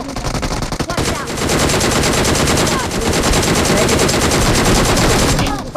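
Rapid automatic gunfire from a shooting video game, loud and sustained, with dense bursts of shots running almost the whole time after a brief softer opening.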